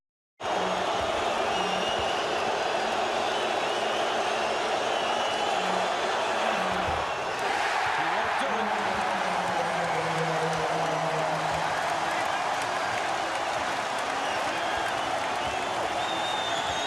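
A packed basketball arena crowd at a Lakers game keeps up a loud, steady roar of cheering and applause throughout, with a few brief tonal whistle-like notes rising out of the din.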